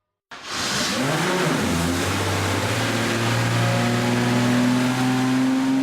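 An Aston Martin One-77 sports car engine starts and revs up loudly, then holds a steady, deep roar at close range with no voices.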